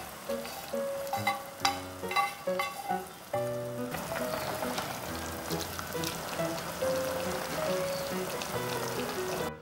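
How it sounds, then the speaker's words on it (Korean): Ramen simmers in a pot with prepared ingredients added, a soft continuous bubbling and sizzling that runs steadily beneath light background music with no talking. "그리고 여기에 준비했던 재료를 넣고 끓입니다."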